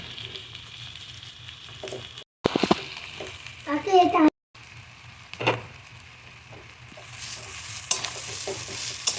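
Chow mein noodles stir-fried with winter vegetables in a pan, scraping and tossing strokes over a low sizzle, with a couple of short gaps and a sharper clatter midway.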